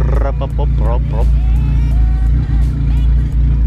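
Sleeved Honda GSR B18 engine with AEM EMS management idling steadily on a dyno, a loud continuous lumpy drone from the cams with low pulsing, while people talk nearby.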